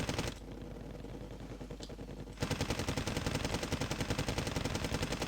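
Machine guns fire in Wargame Red Dragon: a steady rattle of rapid bursts, then a louder, denser stream of repeated shots with an even, fast rhythm that runs to the end.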